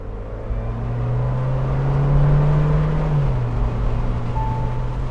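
A Mahindra Thar 2020 with a modern turbo petrol engine accelerating on the road, a steady engine drone rising in pitch and then shifting down, heard from inside the cabin with road and wind noise.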